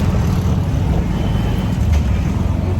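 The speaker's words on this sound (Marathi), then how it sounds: "आता आम्ही रिक्षात बसलोय." Riding inside an auto rickshaw through traffic on the way to a birthday, with a steady loud engine drone, road rumble and wind buffeting the microphone continuously.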